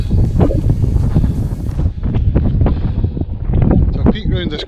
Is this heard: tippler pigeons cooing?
no